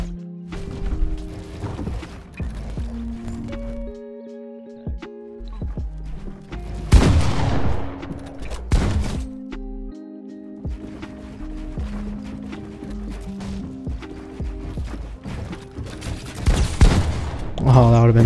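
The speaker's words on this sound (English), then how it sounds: "That instant fire with these trigger stoppers." Rapid game gunfire bursts from a first-person shooter played with trigger stoppers on a controller, repeated volleys and booms running throughout amid music and effects, with a player's voice talking over them.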